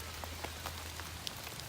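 Pouring rain drums on a makeshift dollar-store survival shelter, a soft continuous patter with a few sharper drop ticks standing out, faint and without voices.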